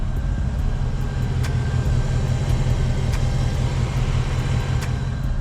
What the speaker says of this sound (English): if you have a 10-speed Mustang, you'll know what I'm talking about, is that you'll hear this whine.